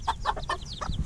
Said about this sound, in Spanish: este pollito va a ser hijo de la gallina BB Red